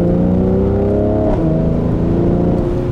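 A 2017 Mercedes C43 AMG convertible with sport exhaust revs hard and loud, engine pitch climbing steadily, dipping with a brief shift near the middle, then pulling again, close and continuous with no talking.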